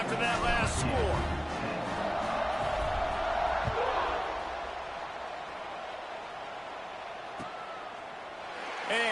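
Football stadium crowd at a BYU vs LSU game buzzing after a score, a broad steady roar of many voices with scattered whoops and shouts, swelling early and easing slightly before rising again at the end.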